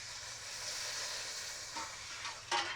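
Vegetable stock is poured into a hot pan of lentils, a broad steady sizzle and hiss, with a couple of brief clinks or stirs near the end.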